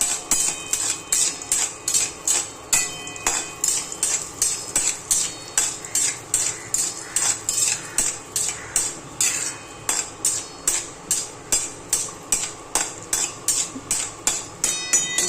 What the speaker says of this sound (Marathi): तर हे काजू भाजून घ्यायचे थोडेसे हलकेसे ब्राऊन होईपर्यंत